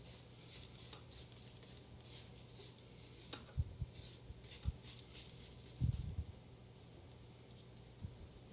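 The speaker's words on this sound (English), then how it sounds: "I'm going to scrape down the sides, making sure I get all the edges scraped" A spatula scrapes the sides of a mixing bowl of gluten-free peach cake batter, producing soft, quiet rubbing strokes with a few sharper knocks near the middle.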